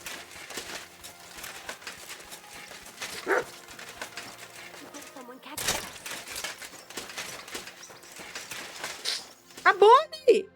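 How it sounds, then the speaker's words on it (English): A dog barks and whimpers in the video game Kingdom Come: Deliverance II, short yips scattered under ongoing talk and game sounds, with a louder burst near the end. "Barking."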